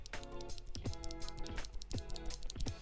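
Stock Gateron Milky Yellow mechanical keyboard switches pressed in a quick uneven run of soft clacks, fairly quiet and close.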